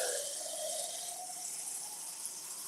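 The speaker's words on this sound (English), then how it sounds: "so it's just gonna get tap water" Tap water runs steadily from a kitchen faucet for a pancake batter, a continuous bright hiss with a slight shift in tone as the flow settles, close and with no talk.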